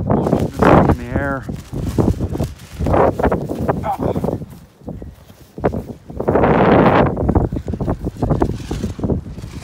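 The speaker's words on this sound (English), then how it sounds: "It's a windy day in southeastern" Gusty wind in southeastern Ohio buffets the microphone in loud, rumbling waves, with people talking underneath it.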